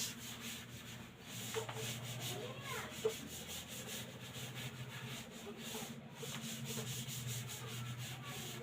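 A board is rubbed and erased with a continuous scratchy, rasping swish that keeps a steady back-and-forth texture, heard close with a faint hum underneath and no speech.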